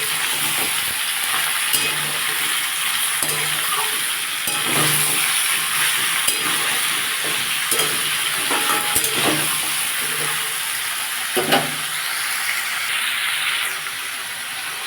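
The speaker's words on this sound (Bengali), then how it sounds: "তরমুজের খোলার মধ্যে আমি আলু, কুমড়ো আর টমেটো দিয়ে দিয়েছি, দিয়ে এটা একসাথে ভাজবো" Watermelon rind frying in a pan with potato, pumpkin and tomato, giving a steady broadband sizzle with occasional stirring clatters, close and continuous with no talking.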